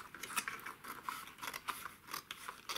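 Quiet, repeated snips of scissors cutting paper card stock, a series of short crisp cuts in an uneven rhythm.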